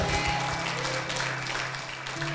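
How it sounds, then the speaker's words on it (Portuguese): Clapping from a church congregation during a worship service, a fairly soft, continuous patter that fades slightly toward the end, with faint tones and murmur underneath. "Será que você pode dar um aplauso bem forte para"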